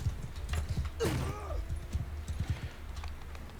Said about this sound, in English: This was just me trying out my new horse.